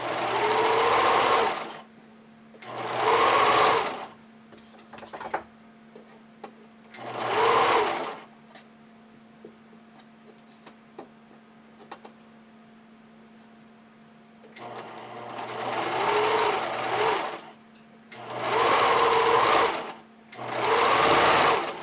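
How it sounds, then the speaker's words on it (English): Sewing machine zigzag stitching elastic onto hipster panties, several close bursts of rapid mechanical whirring separated by quiet pauses with light handling clicks. "I'm just using a zigzag stitch."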